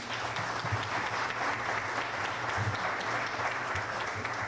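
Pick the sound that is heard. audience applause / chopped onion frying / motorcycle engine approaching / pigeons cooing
audience applause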